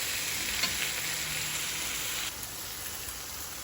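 Dried fish (tuyo) frying in a pan of escabeche ingredients, a steady close hiss and crackle that drops slightly in intensity partway through, no voices.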